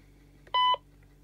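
A brief pair of dialing tones from a Diagral GS100 GSM alarm transmitter sounds once, clear and steady, against quiet background hum.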